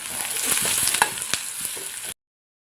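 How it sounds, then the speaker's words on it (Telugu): Chopped onions deep frying in hot oil while being stirred for egg biryani, a steady close sizzle with scraping stir strokes, loud and continuous until it cuts off abruptly. "మంచిగా ఆయిల్లో డీప్ ఫ్రై చేసుకోవాలి కాబట్టి ఆనియన్స్ అన్నీ కూడా అందులో అయితే వేసుకుంటున్నాను"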